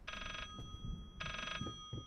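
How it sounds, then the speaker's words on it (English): An old-style telephone bell rings in the Layers of Fear (2016) horror game, two bright trilling bursts with a pause between, over low rumbling ambience and faint clatter. "Let's stop this stupid incessant ringing."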